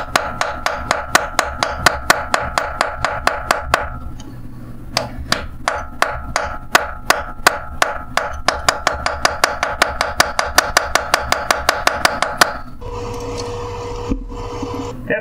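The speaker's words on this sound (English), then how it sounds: "this is actually what's called a needle scaler" Rapid mechanical hammering of a needle scaler on a collapsed GM engine lifter, a fast metallic chatter of repeated short strikes, loud and close, pausing briefly then resuming before a harsher noise at the end.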